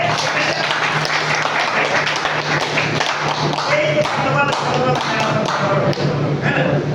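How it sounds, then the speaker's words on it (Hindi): An audience at a workshop session claps together for a guest, a sustained dense wash of hand claps with scattered sharper hits, close and fairly loud, with a steady low hum running underneath. "वर्मा दादा के लिए एक बार जोरदार सिग्नेचर ताली बजनी चाहिए"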